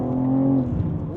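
A 2023 BMW M3 Competition (G80) accelerating, its engine holding a strong, steady drone that then shifts pitch as it pulls, heard close and fairly loud from on board.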